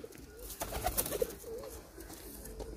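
Breed pigeons in Sialkot coo softly nearby, a few low rolling calls over light background noise.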